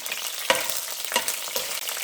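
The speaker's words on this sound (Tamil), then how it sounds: "பட்டை பொரிஞ்ச பிறகு பிரியாணி இலை போடலாங்க" Cinnamon and bay leaf fry in hot oil for a mutton keema gravy, a continuous crackling sizzle with three sharp bursts as the spices are stirred or dropped in.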